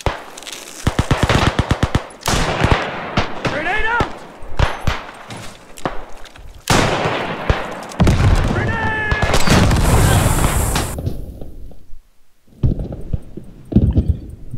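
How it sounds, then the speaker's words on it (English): A field gun pounds away in the video game Beyond The Wire on the Chateau-Thierry map, heavy booms mixed with rapid machine-gun bursts and other gunfire, loud and dense, with a voice talking over the battle. "the field gun keeps pounding that"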